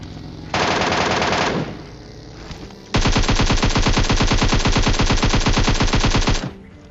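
Automatic rifle fire at a buggy in a shooting video game: a one-second burst, a short pause, then a longer sustained burst of rapid, loud, evenly spaced shots lasting over three seconds.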